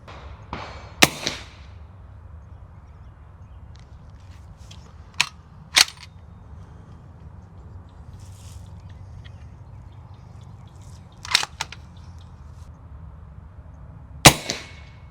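Several sharp suppressed rifle shots from a .338 ARC rifle fitted with a baffle-stack suppressor, spaced irregularly: one near the start, a close pair a few seconds later, another pair, and a final crack, each with a short outdoor echo.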